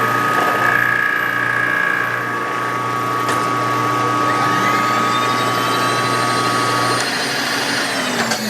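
Rapid mechanical clicking of a ratchet wrench tightening a cylinder head on a five-cylinder radial engine, close and steady, over a constant motorized hum that cuts out near the end.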